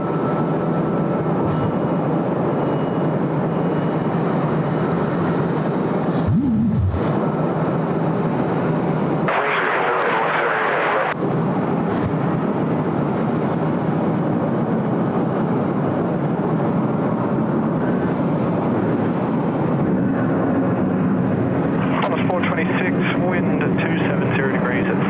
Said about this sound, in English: We'll see the old smoky 777 get underway.